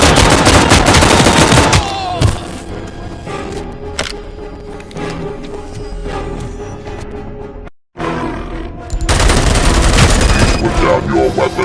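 Heavy sustained gunfire from the ED-209 enforcement robot in the video game RoboCop: Rogue City, loud dense bursts at the start and end with a brief cut of silence, a roaring machine-like texture throughout.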